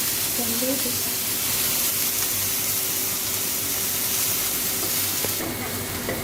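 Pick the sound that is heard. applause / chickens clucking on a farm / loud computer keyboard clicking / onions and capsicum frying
onions and capsicum frying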